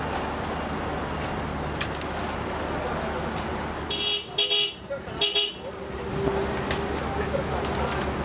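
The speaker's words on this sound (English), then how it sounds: "I've been honking for so long." A car horn honks in a series of short blasts clustered near the middle, over steady street noise, with people talking nearby.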